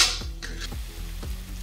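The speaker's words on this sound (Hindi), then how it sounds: "तो फ्रेंड इसे हम 2 से 3 मिनट भूजेंगे, जब तक तेल ना छोड़ दे तब तक हम इसको भूजेंगे।" Masala sizzles in hot oil in a kadhai, a steady frying hiss broken by three low scraping stirs of the spoon, close and fairly loud with no voices.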